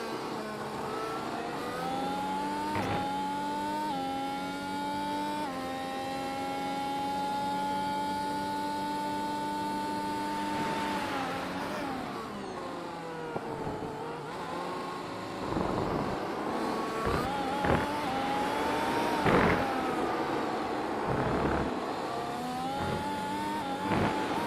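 An onboard view of a Formula 1 car in iRacing at Fuji: the engine whines loud and steady, the pitch climbing and falling through repeated upshifts, then breaks into choppy downshifts and revs near the end, with no voices over it.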